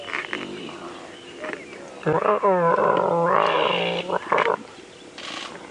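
A lion cub on a live sunrise safari drive growls and roars in a long, loud, wavering burst in the middle, with quieter rumbling before and after, close by under a guide's commentary.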